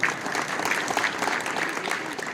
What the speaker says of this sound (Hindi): ये आप सब एक बार अपने लिए एक बार जोरदार ताली बजाइए।